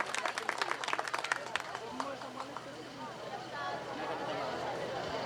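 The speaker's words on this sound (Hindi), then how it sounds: "जोरदार ताली एक बार इन्हें भी।" An audience at a stage event of a drama and arts society claps in a brisk burst of applause that fades after a second or two, leaving murmuring and voices in the background.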